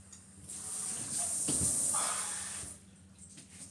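Water poured onto salted ice inside a slushy machine, a soft hissing, splashing rush that swells in the middle and then tapers off, fairly close and heard alone.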